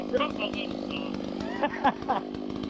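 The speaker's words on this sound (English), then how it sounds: "you gotta bust out the chainsaw" A chainsaw runs steadily close by while clearing brush around an abandoned tractor outdoors, its engine drone continuous with a few louder revving bursts, as people talk over it.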